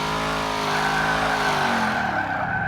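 A car in a video game skids and drifts with a sustained, loud tire squeal layered over engine drone, the pitch sliding as it fades out near the end.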